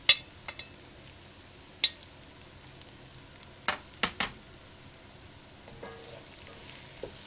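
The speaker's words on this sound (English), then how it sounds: "Now it's time to add the potatoes to the pot." Potatoes tipped into a hot pot for a prawn, potato and pea chorchori, giving a few sharp clattering drops and brief bursts of sizzle over a quiet, low frying hiss.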